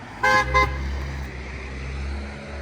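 A passing car gives two short, loud horn toots close by on a fairly main road, followed by steady traffic rumble.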